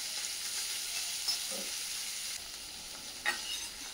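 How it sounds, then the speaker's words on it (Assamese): Paneer frying in butter in a pan gives a steady, soft sizzle throughout, with a few brief louder crackles and stirring touches close by and no talking. "ভাজি ল'ম অকণমান"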